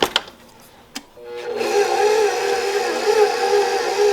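An electric mixer mixes the dry ingredients for a lamb cake batter on low speed. It starts with a couple of soft clicks and bumps, then the motor settles into a steady, close, continuous whir that lasts to the end.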